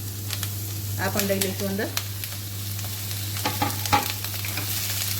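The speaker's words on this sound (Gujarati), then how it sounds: "થોડુંક રોસ્ટ કરીને અંદર નાખીશું તો સ્વાદ બહુ જ સરસ આવશે." Paneer and vegetables roast in a hot pan over a full gas flame, giving a steady sizzle with stirring scrapes and brief clinks, while a person speaks briefly over the cooking noise.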